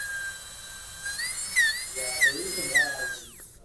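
A high-pitched dental drill whines steadily as the burr cuts a gingival bevel in a tooth, dipping in pitch briefly several times under load before winding down, while someone talks over it.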